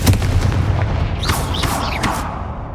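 Bombarda and Confringo spell explosions in the video game Hogwarts Legacy, a steady series of loud booming blasts with rumbling low end and whooshing magical streaks layered on top, continuous and close.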